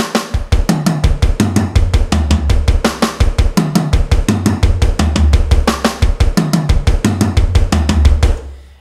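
Drum kit fill played right hand, left hand, then two bass-drum kicks, repeated at a faster tempo: rapid, loud, close hits with deep booming kicks pulsing under bright snare and cymbal wash, no voices.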